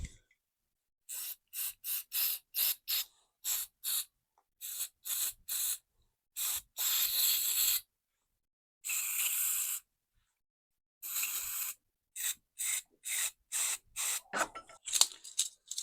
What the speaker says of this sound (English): One more spritz of carb clean.